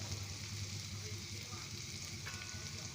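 Pre-boiled chicken pieces sizzling in a hot frying pan for a chicken and bell pepper dish, a continuous close, dense hiss with faint stirring.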